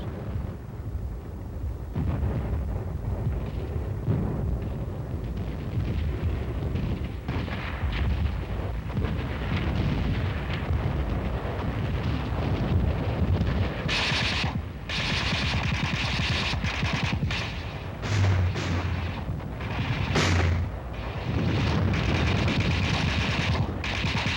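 Artillery guns firing along a front, a dense, loud barrage of booming blasts and rapid rattling reports that rolls on continuously, with sharper, brighter cracks breaking through in the later part.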